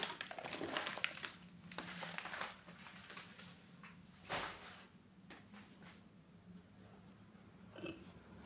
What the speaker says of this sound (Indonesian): Kita akan unboxing ini.